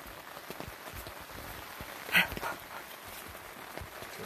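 Rain patters steadily on a screen kitchen at an off-grid camp in Alaska, a soft, even hiss of drops with one brief louder sound midway.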